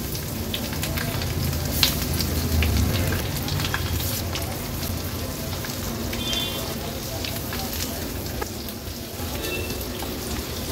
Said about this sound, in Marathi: अलगदपणे एक एक करून हे गाबोळीचे पीसेस आपण तेलावर सोडूया